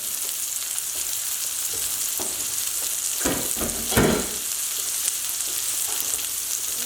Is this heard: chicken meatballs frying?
yes